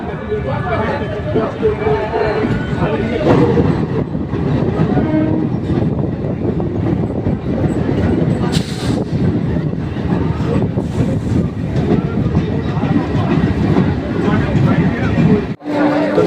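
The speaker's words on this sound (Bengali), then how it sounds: "আর আমাদের ট্রেন ঠিক তার সঠিক সময় একটা বেজে কুড়ি মিনিটে নৈহাটি প্ল্যাটফর্ম থেকে রওনা দিয়ে দিয়েছে" A local train running from Naihati station toward Sealdah rumbles and clatters loudly and steadily, with a horn and voices mixed into the continuous noise.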